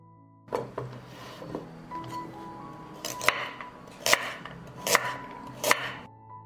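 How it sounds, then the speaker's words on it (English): Carrots, peeled and washed, being chopped with a knife on a board, a few soft cuts early then a run of sharp, evenly spaced knocks growing more distinct, close and clear with no talking. "Now I will cut 500 grams of peeled and washed carrots"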